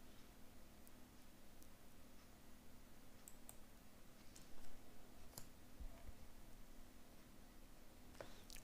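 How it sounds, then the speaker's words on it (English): Sparse, faint clicks of a computer mouse over a low steady hum, a few single taps spread irregularly across a quiet room while WordPad is used. "Clicking on the WordPad button"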